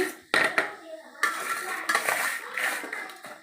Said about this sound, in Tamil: இந்த மாதிரி குலுக்கி உப்பு எல்லா பக்கமும் மாங்காயில் படுற மாதிரி குலுக்கி